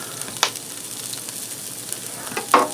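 Four cloves of minced garlic hitting a hot Copper Chef skillet, giving a soft steady sizzle with two brief louder crackling bursts near the start and end.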